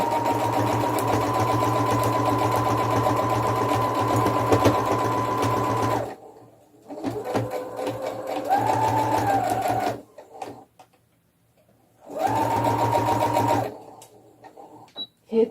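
Sewing machine stitching and backstitching along the fold of cloth doll pajamas, with a loud steady mechanical whirr, a short pause, several stop-start bursts, then another run.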